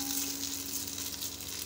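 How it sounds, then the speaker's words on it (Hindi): Tadka of hot spices sizzling over a pot of dal, a steady, close crackling hiss that runs evenly throughout with no talking. "जो ज़बरदस्त सा तड़का लगता है ना तो उसकी आवाज़ आती है"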